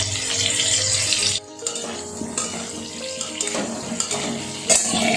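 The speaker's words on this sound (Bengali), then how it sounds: "তেলটা গরম হয়ে গেছে, ভালো তাপ উঠছে। এবার এর মধ্যে দিয়ে দেবো আলুগুলো" Potatoes with a little turmeric drop into hot oil and fry with a loud, hissing splatter that briefly cuts out, then resumes with crackling sizzle and occasional metallic clinks of a pan, close by with no talk.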